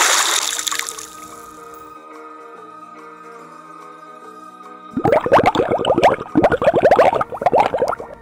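A bone drops into water, followed by a loud burst of splashing and bubbling plops after a quiet, faintly humming lead-in.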